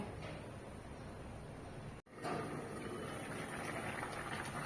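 Fish curry broth with ridge gourd and potato bubbles steadily under a lid in the pot, a continuous soft boiling hiss with one brief break partway through.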